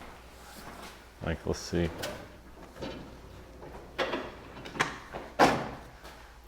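A tool drawer opens and closes in a race car workshop, with a few short sliding knocks and clatters spread across the stretch while people talk quietly nearby.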